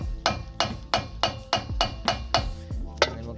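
A hammer taps softly on a stainless steel trailer wheel bearing cap, nine evenly spaced metallic knocks at close range, with no talk.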